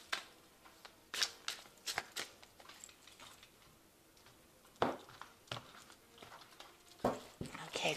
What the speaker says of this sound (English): I'm going to just draw some cards from the manga tarot